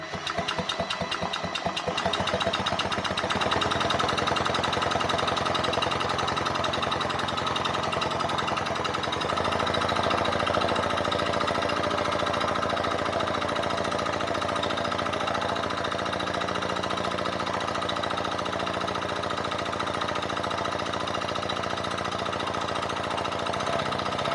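A Velosolex 1700 moped engine with a new fuel pump is turned over in a shed, giving a loud, continuous mechanical drone with a rapid rattling pulse that runs unbroken for over twenty seconds, with no speech.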